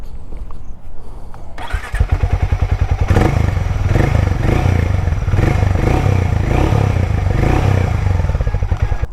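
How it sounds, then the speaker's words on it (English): A Hero Mavrick 440 motorcycle starts up and settles into a loud, lumpy idle exhaust note. It is close, with a steady thumping pulse and mechanical clatter, and nobody talks. "let's hear the exhaust note"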